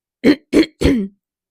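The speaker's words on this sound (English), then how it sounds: "I keep having to clear my throat so much too" Three sharp throat-clearing bursts, close and loud, the last one drawn out into a rougher rasp.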